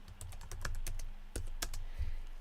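Fingers type on a computer keyboard, with a quick, irregular run of light key clicks close by in a quiet room.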